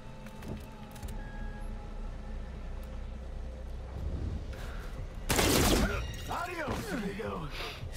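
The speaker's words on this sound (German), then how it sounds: "was sind denn das für Granaten?" Grenades detonate in the video game Miasma Chronicles: one loud, sharp blast of crackling debris lands past the midpoint, then scattered rattling and whooshing bursts, over a steady hum of background game noise.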